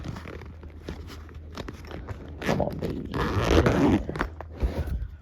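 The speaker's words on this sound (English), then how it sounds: "I should probably zip the zipper" A zipper is pulled closed on a camera battery bag, a close scratchy rasp that builds in the middle and trails off with a few small clicks and rustles.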